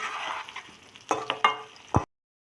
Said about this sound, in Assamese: অকণমান ভাজি লৈছোঁ। জলফাইৰ পৰা ধৰি আহিবলৈ নিদিব